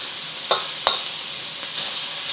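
Shrimp sizzle in a wok, a soft steady frying hiss broken by two sharp clinks or spatters near the start and fainter ones later.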